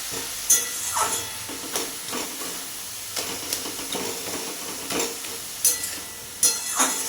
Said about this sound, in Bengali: নাড়াচাড়া করে ভালো করে মিশিয়ে নিলাম